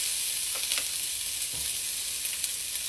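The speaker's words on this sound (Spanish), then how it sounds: "En este sartén puse un poco de aceite caliente y ahí vamos a dorar media cebolla" Half an onion fries in hot oil in a frying pan, a loud, even hiss of sizzling held steady throughout with a few faint taps from a utensil.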